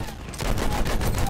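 Rapid machine-gun fire in Battlefield 1 rattles on loudly and without a break through a short, dense burst.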